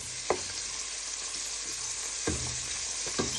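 Pork pieces for a sweet and sour stir fry sizzle steadily in a hot pan, a continuous bright frying hiss with a few soft clinks of stirring, no talking.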